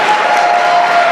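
A room full of people applauding grant finalists at an economic development award event, steady dense clapping throughout.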